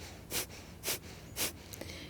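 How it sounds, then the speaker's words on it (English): Kapalabhati skull-shining breath during a yoga class: three sharp, forceful exhalations through the nose, evenly spaced about half a second apart, with no talking. "It's like you're panting through your nose."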